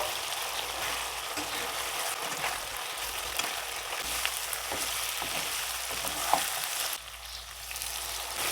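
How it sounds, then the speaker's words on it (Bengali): Fried chicken pieces stirred into spice masala with half a cup of sour yogurt, a steady close frying sizzle with occasional scraping stirs and light clinks throughout. "এবার ভেজে রাখা চিকেনগুলো দিয়ে দেবো মশলার সাথে এবার চিকেনগুলো ভালো করে কষিয়ে নেব"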